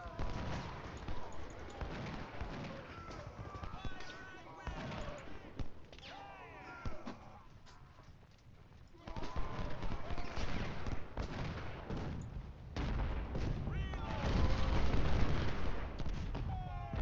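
Musket volleys and artillery fire from the Civil War battle game Ultimate General: Civil War at Shiloh, a dense, continuous crackle of gunfire with heavier booms swelling louder toward the end, with someone talking over it.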